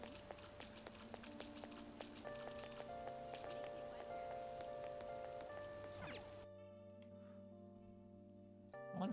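Steady rain ambience in Persona 5 Royal, a soft continuous patter beneath layered game music with tonal notes, ending in a brief swell and a quieter musical stretch.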